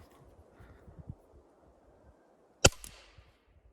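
A single sharp, loud crack of a Flobert revolver shot hitting a wooden board against a quiet outdoor background with faint rustling.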